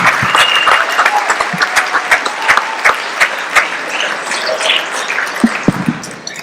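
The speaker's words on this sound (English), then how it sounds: "Please give your first speaker a big round of applause, ladies and gentlemen." A comedy memorial show audience bursts into a loud, sustained round of applause for the first speaker, dense clapping with a few sharper claps and whoops, lasting about six seconds before tapering off.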